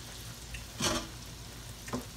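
Oil sizzles and crackles steadily as okra fries, with a couple of louder bursts of hissing as the pieces are stirred.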